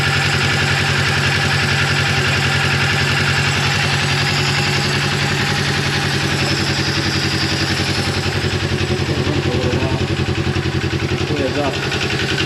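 A Razor 900 engine idles steadily after a valve adjustment and cam installation, a continuous close mechanical chatter with even, rapid firing pulses and light clatter throughout, with no change in pace.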